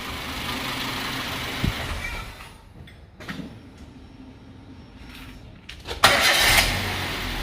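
A Toyota car engine is shut off and restarted: a steady running rumble fades away, a few brief clunks follow, and then a loud burst near the end as the engine fires back up, heard up close.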